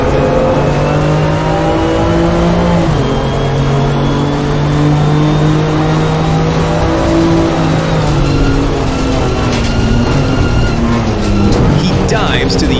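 BMW M2 CS race cars battle side by side through a corner at the Nürburgring, their engines revving loud and close throughout, with rising and falling pitch as they shift. A commentator talks over the racing.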